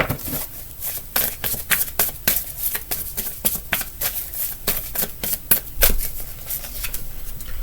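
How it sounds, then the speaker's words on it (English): Tarot cards drawn one after another off the top of a deck for a reading, producing a rapid series of crisp, close paper flicks and snaps with no talking. "I am going to pull right off the top of the deck."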